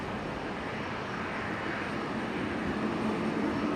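An Air New Zealand Airbus A320neo arrives at Brisbane Airport, its engines a steady broadband roar that holds even and fairly loud throughout, swelling slightly toward the end, with no voices over it.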